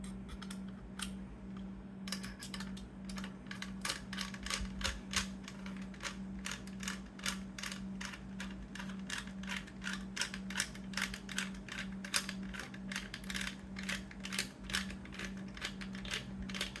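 Ratcheting a wrench on the final bolt of an OSSM actuator assembly, a long run of quick, steady metallic clicks close by, with a faint hum underneath and no talking.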